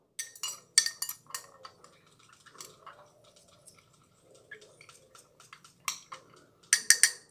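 Homemade strawberry milk made from squeezed strawberry juice is stirred with a spoon, giving sharp close clinks against a glass in quick bursts, softer swishing in between and a final flurry of taps.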